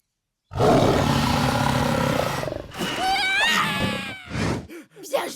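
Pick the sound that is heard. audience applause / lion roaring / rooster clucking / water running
lion roaring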